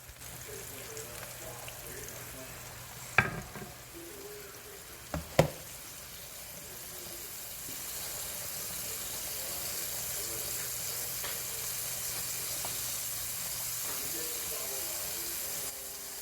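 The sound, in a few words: cube steak frying in grease with onions in a pan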